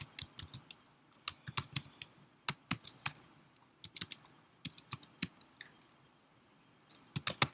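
Fingers type on a computer keyboard in quick irregular bursts of crisp, close key clicks separated by short pauses, with no talking.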